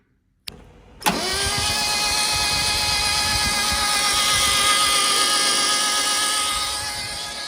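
A rebuilt 1967 Alfa Romeo Giulia Sprint GT engine fires for the first time after a brief crank, then settles into a loud, steady, close-up idle that holds for several seconds.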